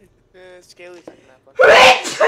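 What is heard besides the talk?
sneeze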